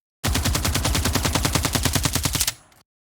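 Redesigned automatic weapon sound effect: a rapid, loud, even burst of roughly twenty gunshots lasting about two seconds, then a short fading tail.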